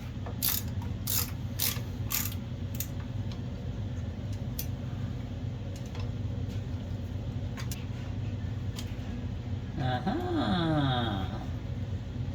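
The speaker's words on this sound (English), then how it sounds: "the bolts mounting it down. So we'll get that off" Close, steady ratchet clicking comes from a wrench backing out the mounting bolts on a 1976 AMC Gremlin stored for 36 years. It runs over a constant low hum, with a brief squeaky whine near the end.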